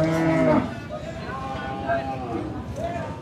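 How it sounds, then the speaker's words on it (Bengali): A large cow at the Shahpur cattle market in Dumuria gives a loud, close moo at the start, followed by softer lowing calls amid the market's background bustle. "এই একটা অনেক বড় গরু, এটা বেশ বড় একটা গরু, বড় জাতের একটা গরু।"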